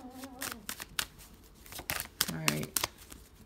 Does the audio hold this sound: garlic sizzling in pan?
no